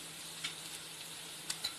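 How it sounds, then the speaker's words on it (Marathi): Butter sizzles softly on a hot griddle while making masala pav, a faint, steady frying hiss with a few small pops, no voices. "ह्याच्यामध्ये मी आता बटर टाकणार आहे"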